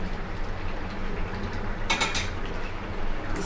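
Rohu fish pieces go into a pot of boiled potatoes with a few clinks of a utensil against the pot, set against a soft, continuous kitchen background.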